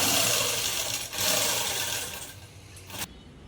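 A sewing machine stitches piping onto a garment neckline, a steady close whirring hum that pauses briefly and then runs on before stopping, with no talk.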